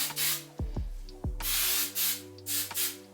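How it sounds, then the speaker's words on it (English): Hairspray hissed onto styled hair in bursts, several close, loud sprays of varying length separated by short pauses, with a few soft thumps and handling sounds between them. "Okay, then we're gonna spray."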